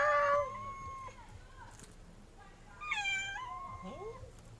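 Several cats in a village yard meow loudly with drawn-out, wavering cries and growl. A long yowl opens, and after a pause a second strident, rising and falling wail follows, with faint background noise.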